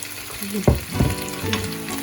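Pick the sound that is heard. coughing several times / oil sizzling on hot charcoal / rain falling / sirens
oil sizzling on hot charcoal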